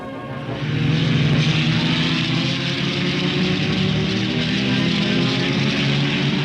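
Racing cars at the 1961 New Zealand Grand Prix, a loud sustained engine roar swelling up within the first second and holding steady, several engines blending into a dense drone.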